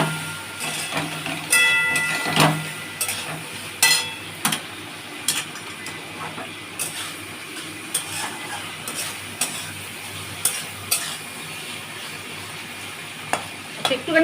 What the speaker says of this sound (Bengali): আমি একটুখানি নাড়বো এটা